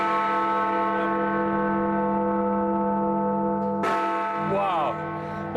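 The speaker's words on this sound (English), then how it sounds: "It is amazing to be right beside this vast bell, which you can hear for miles across London." A huge bell in a London clock tower rings from very near with a deep, long-sustained hum that fades slowly. A second heavy strike lands partway through and sets off a bright new ring.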